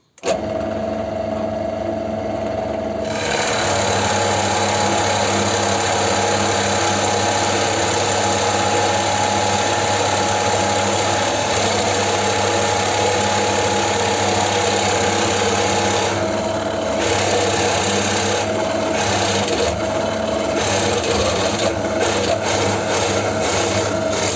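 A cheap 40 mm Forstner drill bit boring into a hardwood block, making a steady, loud, continuous grinding whine with a motor hum beneath it. The sound runs for most of the span and briefly dips and stutters near the end.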